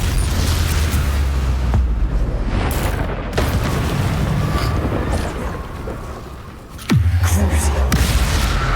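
Spell blasts in Hogwarts Legacy gameplay: a Confringo fire spell bursts with a deep boom among other casting effects, with loud low-end impacts repeating over several seconds and a sharp whoosh near the end.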